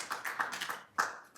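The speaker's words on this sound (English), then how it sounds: "I appreciate the applause" A few sparse claps in a public meeting room, faint and irregular, with several quick hand strikes in a short burst that then fades.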